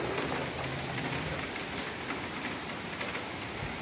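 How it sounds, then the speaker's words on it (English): Heavy rain pours steadily onto a patio during Hurricane Matthew, a dense, even hiss with no other sounds. "It's raining pretty good."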